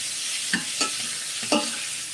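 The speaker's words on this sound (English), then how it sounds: "I'm gonna put it back on the fire here and start sauteing onions with the garlic" Onions and garlic sauteing in oil in a pan on the stove, with a steady soft sizzle and a few brief stirring scrapes spaced across the clip; no talking.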